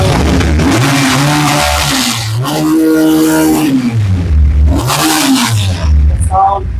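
A 350 motorcycle engine revving up and down several times, loud and close, with rising and falling pitch sweeps and voices talking over it.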